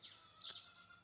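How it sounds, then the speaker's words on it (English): Birds chirp outdoors in a brief burst of bright, high tweets and short calls, fairly faint against light background ambience, with no voices. "If I hear one more time the birds, they're awesome."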